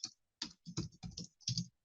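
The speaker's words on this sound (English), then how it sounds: "my typing isn't great today" Quick bursts of keystrokes on a computer keyboard come in short clusters, close but quiet, with no voices.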